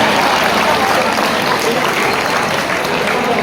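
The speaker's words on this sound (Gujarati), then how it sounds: "અને એ માટે તમારી જ જોરદાર તાળી" Strong, sustained applause from a crowd of students at a school farewell, loud and close, with dense clapping that fills the whole stretch and a few voices mixed in.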